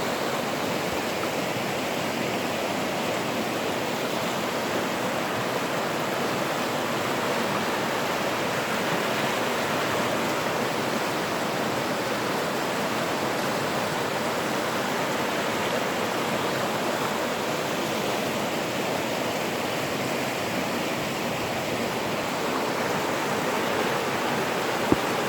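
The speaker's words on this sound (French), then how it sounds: "pour vous montrer la belle rivière" A river flows steadily for the whole stretch, a broad, even wash of rushing water close by with no pauses and no voices over it.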